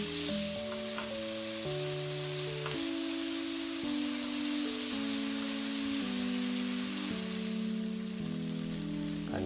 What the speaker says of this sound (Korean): 김치를 넣고 같이 볶아줍니다.